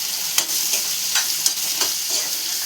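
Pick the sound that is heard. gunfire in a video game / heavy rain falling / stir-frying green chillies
stir-frying green chillies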